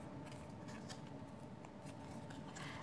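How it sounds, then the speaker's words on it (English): Paper sides of a card tuckbox are folded in, giving soft continuous crinkling and rustling with light creases, close and quiet. "I'm gonna fold the sides in."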